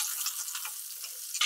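Mustard seeds, dal, green chili, cumin, cinnamon and cloves sizzle in a little sesame oil, making a bright, crackling hiss with small pops throughout.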